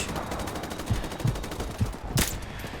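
Rifle gunfire in Call of Duty 4: Modern Warfare Remastered: a run of rapid, evenly spaced shots, with a few heavier cracks and one sharp loud burst near the end.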